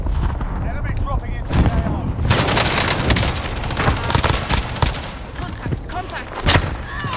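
Rapid video game gunfire and booming blasts from Call of Duty Warzone on Rebirth Island, loud and nearly continuous, with several sharp bursts under excited player voices.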